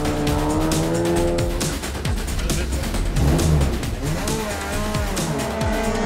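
A race car engine revs continuously after a spin-out, loud and close, with rising and falling pitch sweeps, a dense rumble and a brief squeal.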